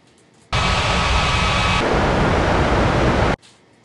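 An airliner takes off from runway 27 at Bali's Ngurah Rai International Airport in an air traffic control game, a sudden loud roaring jet rush that holds steady for about three seconds, shifts tone, then cuts off abruptly.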